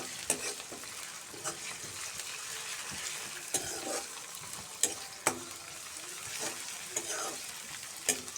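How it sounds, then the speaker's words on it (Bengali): Shrimp and onion greens fry in a pan, a steady soft sizzle broken by several sharp scraping clicks from stirring, heard up close with no talking. "আমি প্রথম চিংড়ি মাছ দিয়ে পেঁয়াজের কলি ভাজি করব।"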